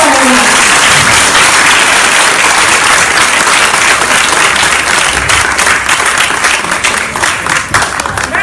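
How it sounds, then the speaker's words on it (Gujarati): An audience at a Krishna Leela play breaks into loud, sustained applause, a thick, close roar of many clapping hands that carries on without a break and loosens slightly near the end. "જોરદાર તાળી પાડો"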